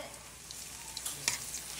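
Garlic sautés in plenty of butter in a pan, a faint steady sizzle and crackle with a few soft stirring clicks, close and quiet, with no voices.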